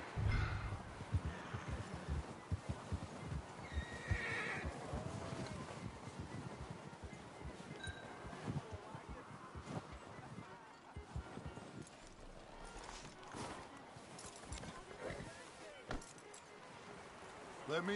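Horse hooves clip-clopping in Red Dead Redemption 2, a run of close steps with tack jingling and wind, slowing as the rider stops, with voices talking over parts of it.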